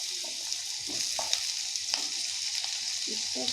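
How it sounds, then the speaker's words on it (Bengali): Cut potatoes frying in a hot pan as they are stirred for aloo posto, a constant bright sizzle with scattered light scrapes and clinks of the spatula, close up, no one speaking. "আলুটা লালচে ভাব হওয়া না পর্যন্ত ভালো করে নেড়ে নেওয়া হচ্ছে, যেন পুড়ে যায় না"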